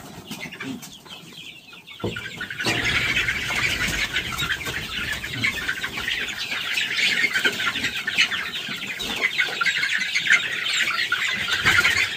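Chickens cluck and squawk steadily under a coop rigged to guard them from mongooses, with some wing flapping; the sound starts quieter and grows fuller after a couple of seconds, then continues busily to the end.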